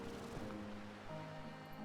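Waterfall in the video game Slime Rancher 2, a faint, steady broadband rush of falling water with a few soft tonal game sounds beneath it, no talk.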